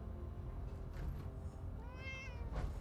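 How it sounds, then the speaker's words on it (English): A cat meowing in the video game Fallout 4, one faint rising meow over low steady game ambience, with no talk. "Pay attention to the cat."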